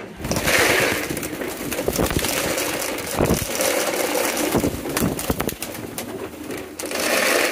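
Pigeons, including a King pigeon, coo close by amid constant rustling, scuffling and wing flutters, with no one speaking.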